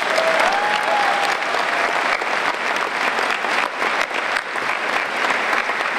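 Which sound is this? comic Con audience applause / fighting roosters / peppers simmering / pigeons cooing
comic Con audience applause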